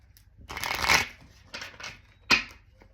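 Tarot cards shuffled by hand, three quick riffling bursts of papery flutter with brief pauses between, close to the microphone and fairly loud.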